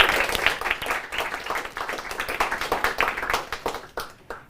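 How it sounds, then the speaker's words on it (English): A small crowd at a literary journal's issue-launch celebration gives a round of applause, with moderately loud, uneven, close-sounding hand claps that continue steadily before tapering into a few final claps. "Let's have a round of applause"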